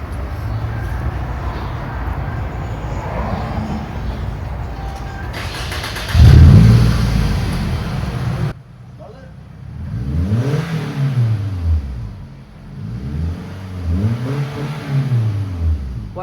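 Engine of a 2003 Toyota Camry fitted with a Magnaflow exhaust, rumbling at idle then swelling through repeated revs with a loud burst early on; voices talk in the background.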